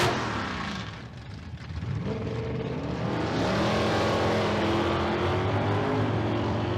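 Two drag cars launch and pull away, a 1964 or 1965 Chevy II station wagon in the left lane and a third-generation Camaro in the right, with loud engines rising steadily and roaring on at the strip.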